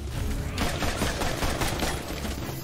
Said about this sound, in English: Wow, we shot our way out of that one.